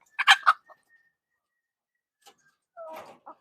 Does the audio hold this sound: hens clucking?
yes